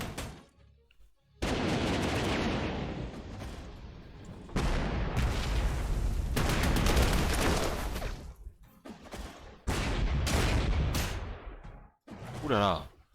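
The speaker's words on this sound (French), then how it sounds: "il a une artillerie qui tire de loin hein, et qui est super efficace." Long-range artillery fires in a WWII strategy video game at El Alamein, heard as several loud bursts of booming, crackling gunfire separated by short quiet gaps, with a voice speaking at times.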